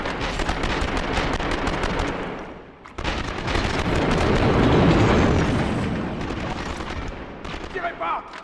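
Heavy automatic gunfire and explosive bursts from the PS2 video game 24, a loud continuous barrage with a brief lull near three seconds, then sustained firing that thins out toward the end.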